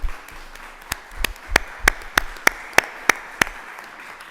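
Slow, isolated claps ring out one by one at a book presentation in a school in Ourense, about a dozen sharp, evenly spaced hand claps in a quiet room, growing slightly louder before stopping.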